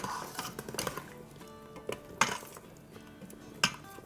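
Cooking pot lid being opened after pressure venting on a pot of okra and mutton stew, giving metallic clinks and scrapes of cookware, several sharp clanks standing out against a quiet kitchen background.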